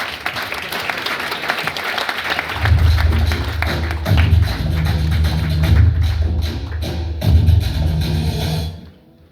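A graduation ceremony crowd applauds at length, a loud continuous roar of many hands with thumping bursts that swell and ease several times before cutting off near the end.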